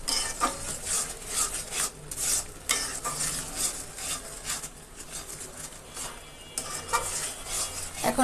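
Ground chili, coriander and cumin powder are stirred and sautéed in a pan, with repeated scraping and clinking of a spoon against metal over a low, patchy sizzle.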